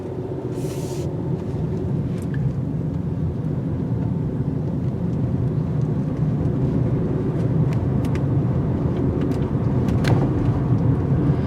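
A 2017 Honda CR-V 1.5T SUV driving a tight turning circle, with a steady loud engine and road drone heard from inside the cabin, continuous throughout with no talk.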